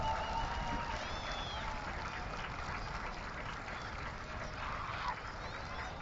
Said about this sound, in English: let's give Joe Blaha a big round of applause